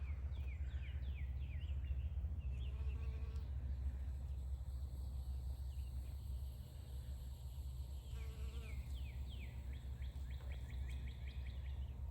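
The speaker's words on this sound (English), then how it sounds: "I didn't want to scare the bee away" A bee buzzes around squash flowers in a homestead garden, a steady close hum with birds chirping repeatedly in the background.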